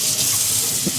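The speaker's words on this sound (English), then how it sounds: "Let's go a little less intense with the water here." A kitchen tap runs steadily while cooking stuffed peppers, a continuous, fairly loud hiss of flowing water into a sink with no voices.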